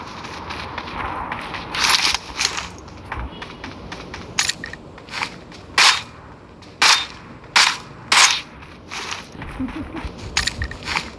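Gunshots ring out one after another, about a dozen loud, sharp cracks at uneven intervals, some in quick pairs, with short quiet gaps between them.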